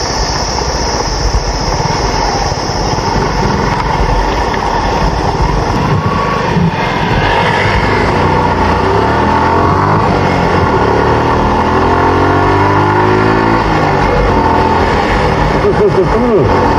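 A motorcycle overtaking on a rough off-road trail in Lower Mustang, with a continuous loud engine drone whose pitch shifts as it revs, under strong wind rush, and a voice talking over it.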